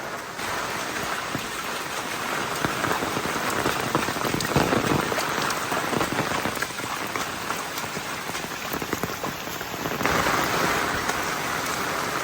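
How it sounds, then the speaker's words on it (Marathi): Steady monsoon rain in Konkan pattering on surfaces, a dense continuous hiss with scattered drops, no voices, unchanging throughout. "बाहेर पडले का पाऊस येतात"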